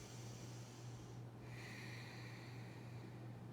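Slow deep breath through the nose during a yoga session, a soft continuous airy rush, close and quiet, with a brief pause partway through.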